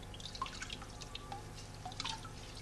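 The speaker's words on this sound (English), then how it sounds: "So we get it in the water right away, clean it up with a sponge" A plaster mixing bowl is washed in water with a sponge, giving soft close drips, small splashes and trickles scattered irregularly through a quiet few seconds.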